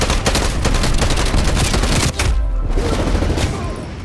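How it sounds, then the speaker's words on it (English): Gunfire in the video game Call of Duty, with dense rapid-fire bursts crackling loud and continuous almost throughout and a brief dip near the middle before the shots resume. "Here's another example of terrible shooting."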